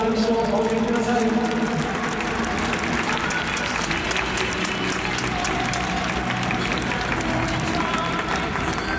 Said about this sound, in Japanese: 今一度福島選手に大きな拍手をお送りください。